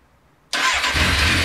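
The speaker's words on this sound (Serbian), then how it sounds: "Sad će Damir da isproba da li ovaj motor uopće pali." An old motorcycle engine starts after a short quiet pause, catching abruptly and settling into a loud, steady running rumble close by.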